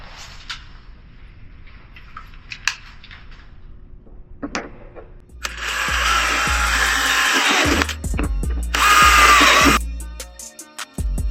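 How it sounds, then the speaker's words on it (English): A power drill bores holes through the backing plate of a homemade pulk sled, with two loud, sustained bursts of whirring grind separated by a short pause, after quieter handling knocks and clicks. "then we're going to drill our front 2 holes"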